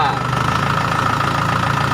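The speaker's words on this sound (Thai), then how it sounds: "เดี๋ยวพาไปดูรอบเครื่องนะครับผมขอตั้งเดินเบาสักนิดนึงนะครับ" Kubota combine harvester, fitted with an added spring, idling with a steady close mid-pitched diesel rumble and regular low knock throughout.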